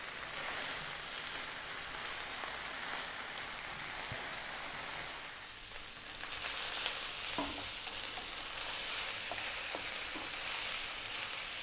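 Chicken fried rice sizzles and crackles hard in a pan over high heat, a dense, steady frying hiss with occasional stirring scrapes, close and continuous with no talk.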